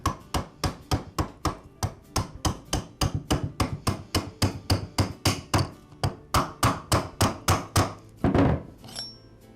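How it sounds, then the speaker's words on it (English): Metal tubing hammered over a Ryobi string trimmer shaft to seat the retainer, giving a steady series of close, sharp taps, roughly two to three per second, with a heavier knock near the end and no talking. "I slide the tubing over the shaft and then tap the retainer into place."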